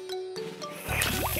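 A cartoon hand water pump works a few quick squeaky strokes, then water gushes and spills out loudly in a sustained splashing rush with bubbly gurgles.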